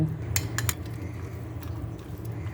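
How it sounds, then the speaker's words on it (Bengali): Pieces of katla fish are mixed by hand with a paste of ginger, cumin, garlic, salt, turmeric and chili in a dish. Close wet squishing comes with a few sharp clinks of metal on the bowl. "এখন সামান্য একটু মশলা দিয়ে মাছটা মেখে নেব"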